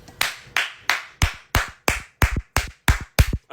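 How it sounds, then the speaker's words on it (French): Ten sharp, evenly spaced claps, close and fairly loud, with no voices. "Applaudissements."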